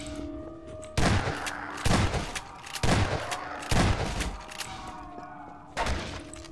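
Shotgun blasts in a Halloween-themed video game map, about six heavy, booming shots at roughly one-second intervals, each with a thudding tail, over a steady ambient tone.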